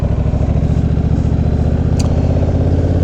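A motorcycle's engine throbs loudly and close by with a steady pulsing rumble, a brief sharp click cutting in midway.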